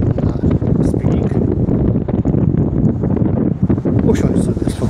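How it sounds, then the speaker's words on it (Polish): Strong wind buffets the microphone at a lakeside fishing spot, a constant loud low rumble with gusty roughness throughout. "Jest taki duży wiatr."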